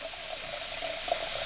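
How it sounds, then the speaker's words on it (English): Hot water runs steadily from a bathroom tap and flushes down a slow sink drain, a continuous close hissing rush with a faint gurgle, no voices. "So basically, we're just cleaning the drain with hot water."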